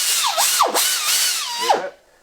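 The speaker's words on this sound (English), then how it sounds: "This is my valve grinder machine." An air-operated valve grinder with stones cut at 30, 45 and 60 degrees runs in a Harley motorcycle rebuilding shop, giving a loud high whine that dips and rises in pitch several times before stopping.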